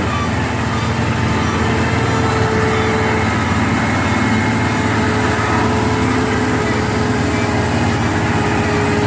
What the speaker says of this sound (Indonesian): Hino 500. Trailer tangki panjang.